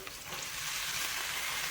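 Chopped banana flower fries in hot oil in a pan, giving a dense, steady sizzle and crackle, close and fairly loud, with no voices.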